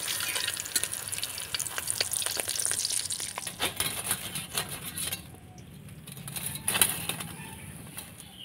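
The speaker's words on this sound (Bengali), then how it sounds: "সবগুলো ভেজে নিয়েছি" Cabbage fritters fry in hot oil with a steady sizzle and crackle, broken by scattered clinks of utensils against the pan, close and moderately loud.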